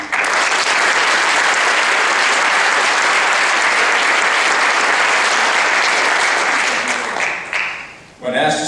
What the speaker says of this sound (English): I'd like to hear a round of applause for them tonight